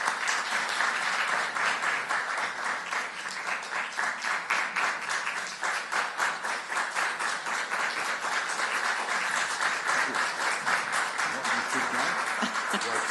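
Sustained, dense audience applause filling a conference hall in Jerusalem as Israeli Prime Minister Benjamin Netanyahu is welcomed, loud and steady throughout with no break.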